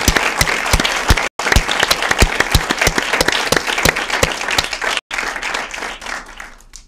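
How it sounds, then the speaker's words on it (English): Loud, close applause from a small audience at a penny stock summit, sharp individual claps rhythmic and distinct, briefly cut out twice before fading. "Please give a round of applause for Roland."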